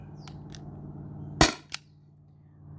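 A T4E HDP50 CO2 pistol fires steel balls, giving one sharp, loud, close crack followed by a smaller snap, with a few faint clicks before it.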